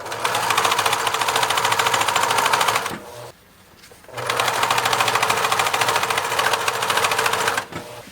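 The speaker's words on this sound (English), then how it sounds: "I just use my regular sewing machine on a straight stitch" Home sewing machine on a straight stitch sewing a pocket, a loud steady mechanical rattle that stops for about a second and then resumes, close and alone without talk.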